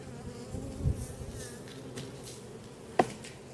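Honeybees hum around an open hive during a hive inspection, a faint steady buzz with a couple of bees passing close by, and no speech.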